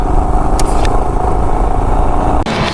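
A motorcycle on a winter ride with over-inflated tyres makes a continuous loud engine and road rumble with wind buffeting, steady throughout with a brief dip near the end.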